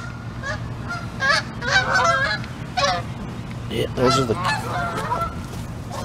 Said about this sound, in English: Canada geese coming back.